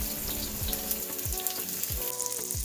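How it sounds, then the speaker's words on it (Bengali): Chopped onions sizzle in hot oil in a wok, a close, crackling fry with several soft stirring thumps at regular intervals. "কুচনো পেঁয়াজ দিয়ে ভালো করে নেড়ে চেড়ে লাল লাল করে একটু ভেজে নিতে হবে"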